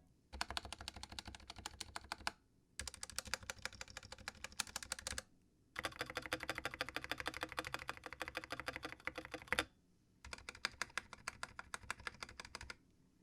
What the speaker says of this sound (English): the stock spacebar sound is pretty decent, but for the surrounding stabilized keys, not so much